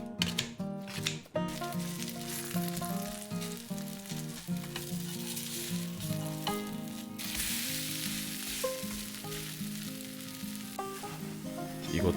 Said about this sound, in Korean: 다음 건 방아잎을 잘라서 구워준다.